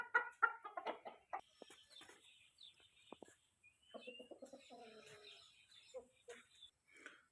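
Soft, irregular clucking from roosters with occasional faint chirps, somewhat distant, amid quiet background activity.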